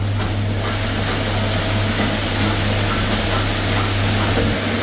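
A black pepper threshing machine runs steadily with a constant mechanical rattle and a strong low hum, loud and close, unbroken throughout with no talk.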